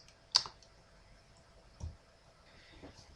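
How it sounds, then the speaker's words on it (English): A computer mouse clicking while working in report-building software, one sharp near click followed by a couple of fainter taps in an otherwise quiet room. "Press Enter or click on Finish."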